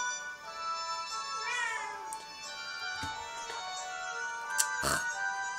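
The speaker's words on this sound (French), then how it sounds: "Il m'énerve ce chat" A cat in a room meows several times in drawn-out, wavering cries, fairly close and moderately loud, over faint background music.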